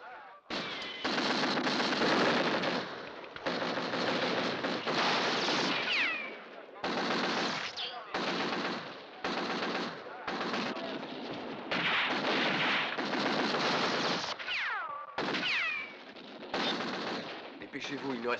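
Machine gun fire in a French-dubbed western film, long rattling bursts of rapid shots broken by short pauses, loud and harsh, with some talk mixed in.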